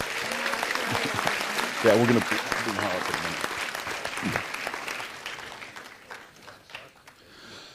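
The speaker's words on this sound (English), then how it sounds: "give him a nice round of applause" A crowd at a city council meeting claps in sustained applause, fairly distant, while a voice speaks over it before the clapping thins out.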